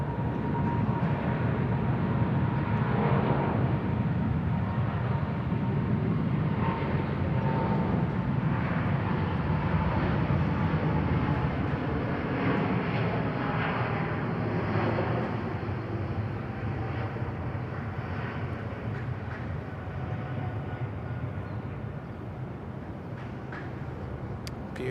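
A KLM airliner at Bangkok Suvarnabhumi Airport gives a steady, loud broadband jet roar that holds evenly throughout, with no voices.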